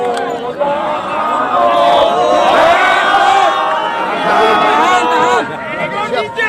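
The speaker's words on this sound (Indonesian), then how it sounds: "Tepuk tangan untuk PBB." Crowd at a gathering, apparently held at a church, cheers and whoops loudly and continuously for a few seconds, a dense mass of voices with a brief dip near the end.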